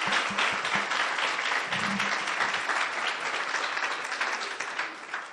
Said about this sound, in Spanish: ¿Le puedes dar un aplauso a Jesús,